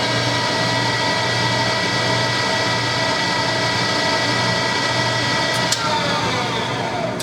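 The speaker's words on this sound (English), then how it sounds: "Once we press start, the tire is going to start spinning." A tire spinning on a Sun CWB1762 tire balancer: a loud, steady mechanical whir with a constant tonal hum held throughout, close and unbroken, ending in a faint click.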